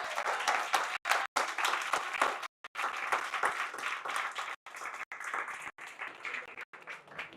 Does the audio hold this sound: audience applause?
yes